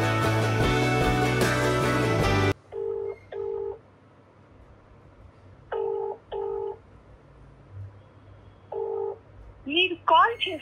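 Telephone keypad tones beep in short bursts while a number is dialed for a call, with brief gaps between groups of digits and a burst of music and voices at the start.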